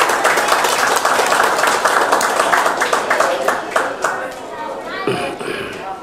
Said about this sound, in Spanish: que pide un aplauso